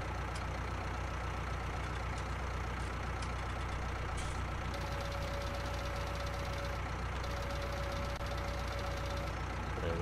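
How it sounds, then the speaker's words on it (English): Valtra A Series tractor in Farming Simulator 19, its engine running at a steady mid-pitched drone with a low rumble, constant and close, with faint clicks and a thin tone appearing briefly partway through. "Let's go give this tractor a run out in the field."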